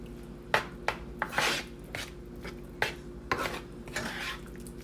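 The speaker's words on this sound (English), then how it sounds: "Give it a stir so the butter can melt." A utensil scrapes and taps against a cooking pot while butter melts for Jamaican turned cornmeal with callaloo, giving several sharp clinks and rubbing strokes at close range, with no talking.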